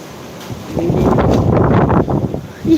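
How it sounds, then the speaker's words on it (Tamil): Strong gusty wind roars and buffets the microphone continuously, with rushing surges and rumbling low noise throughout. "காற்று சத்தம் கேட்குதா?"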